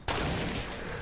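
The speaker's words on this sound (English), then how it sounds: "Did you hear my AK?" AK rifle fire in a video game, a sudden loud burst starting near the opening and running continuously as a dense rattle to the end, close and forceful with no talk.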